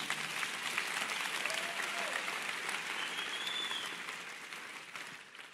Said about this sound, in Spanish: Si alguien lo cree, dele un aplauso a Dios.